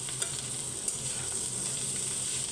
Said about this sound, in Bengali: এগুলোকে এখন ভালো করে মিক্স করব।